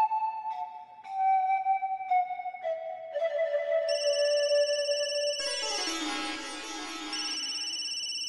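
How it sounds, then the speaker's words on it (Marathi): An electronic phone ringtone plays a melodic sequence of tones, shifting into a brighter, fuller chime partway through, loud and close with no voices. "मालकाने शोभाताईंना फोन लावलाय"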